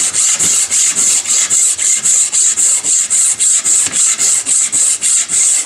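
Sandpaper rubs back and forth on a wooden gun stock in a gunsmith's shop, close and steady, with about twenty rhythmic scraping strokes and no talking.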